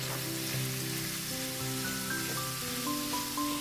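Ground beef spread in a pan with butter and olive oil, frying with a steady close sizzle and crackle that runs the whole time, with faint tonal hum lines in the background.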